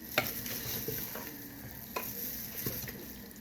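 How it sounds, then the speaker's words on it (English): Mutton being stirred in a pot for biryani, with spoon scrapes and knocks over a steady cooking sizzle, close and fairly loud, no voices. "so just stir the meat in"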